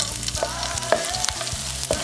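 Garlic frying in hot oil in a pan while cooking igado, a steady sizzle with a few sharp clinks of a utensil against the pan, close and fairly loud.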